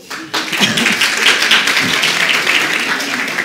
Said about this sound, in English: Clap for this young man.